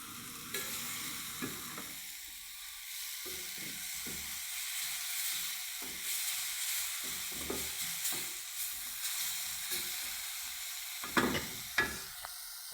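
Semolina (rava) with asafoetida (hing) stirred in a pan, heard as repeated close scraping and stirring strokes over a continuous soft sizzle of frying, with sharper clinks of the spoon near the end.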